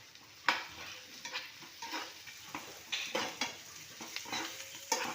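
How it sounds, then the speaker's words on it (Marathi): Curry leaves go into onions frying in a pan, a quiet sizzle punctuated by repeated stirring scrapes and soft clinks of a spoon against the metal, close and without speech. "आपण आता ह्याच्यामध्ये कढीपत्ता घालून घेऊया थोडासा"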